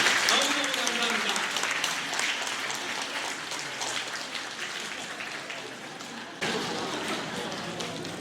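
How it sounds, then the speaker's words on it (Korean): Church congregation claps in sustained, dense applause that gradually fades, then briefly swells again near the end, with voices faintly mixed in. "여러분 옆에 계신 여러분을 섬겨주시는 분들에게 박수와 아름다운 미소를 한번 주시기 바랍니다."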